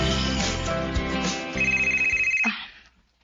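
A mobile phone rings with a loud, melodic electronic ringtone, its tune playing steadily for about two and a half seconds before cutting off into quiet, with no talking over it.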